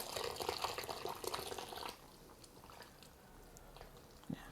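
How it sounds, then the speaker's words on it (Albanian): Very hot water poured into cornmeal, a close, splashing pour lasting about two seconds before it stops, leaving a quiet room with one soft knock near the end. "Do t'i hudhim edhe uji, duhet jetë gjithmonë shumë I nxehtë"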